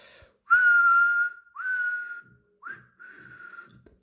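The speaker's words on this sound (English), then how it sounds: "using Henry's whistle, he gave the special signal" A steam engine's whistle sounds a special signal in three shrill, steady toots, a long blast followed by two shorter ones, clear and alone with short gaps of quiet between them.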